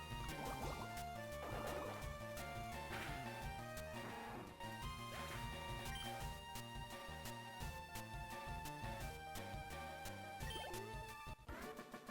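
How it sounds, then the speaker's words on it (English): The Water Pulse attack in Pokémon LeafGreen gives a quiet, bubbly splashing and gurgling burst that sits over continuous chiptune battle music. "Let's go ahead and go for Water Pulse here."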